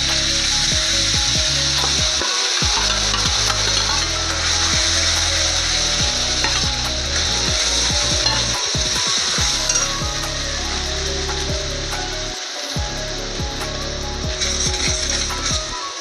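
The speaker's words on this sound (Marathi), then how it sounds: "छान असं तेल गरम झालंय. आता आपल्याला मसाला परतूया आपण." Masala fries in hot oil and is stirred continuously, a dense close sizzle broken by frequent scraping and clinking of a spoon against the pan.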